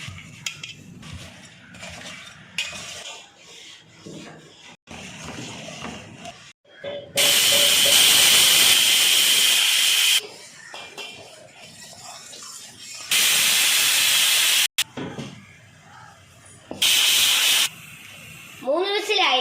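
A pressure cooker of lentils on a gas stove lets off loud bursts of hissing steam whistle, in several separate blasts a few seconds long, with kitchen clatter and a voice talking between them.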